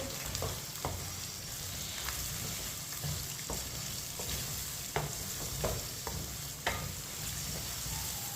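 Lightly browned chicken and finely chopped onion fry in a pan for Chinese rice, a steady close sizzle broken by repeated sharp clicks and scrapes of a spoon stirring at irregular intervals, with no voices.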